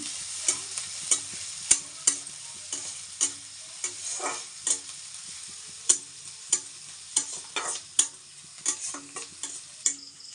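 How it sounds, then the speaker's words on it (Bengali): Chopped onion and green chili frying in oil in a pan for banana-flower chops, with repeated scraping stirs of a spatula over a steady light sizzle, close and moderately loud, no voices. "লঙ্কা কুচি দিয়ে ভেজে নিচ্ছি"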